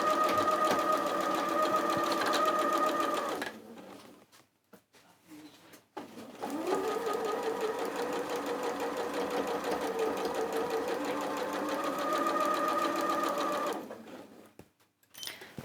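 A sewing machine stitches over bulky joined seams on a Christmas project, running in a long steady burst, pausing for a few seconds of near quiet with small clicks, then running again for a long stretch before stopping.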